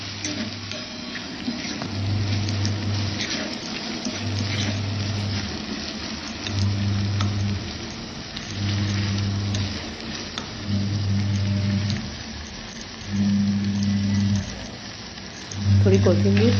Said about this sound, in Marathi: त्यात टोमॅटो देखील छान मऊ होईपर्यंत आपल्याला परतून घ्यायचं आहे